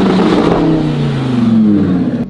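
A Lamborghini engine revs loudly at close range, a dense roaring drone whose pitch slides slightly downward over a couple of seconds.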